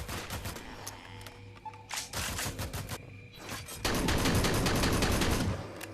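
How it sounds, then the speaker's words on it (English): Red machine gun firing in the video game Deadly Defense, loud, dense bursts of rapid automatic shots separated by brief pauses, with a long sustained burst at the end. "Thank the heavens for this red machine gun"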